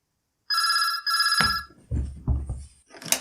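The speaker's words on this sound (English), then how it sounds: "if that bloody telephone could stop ringing every time I tried to record something" A telephone bell rings in two bright bursts, the second cut short as a voice begins talking over it, followed by a brief ring fragment at the end.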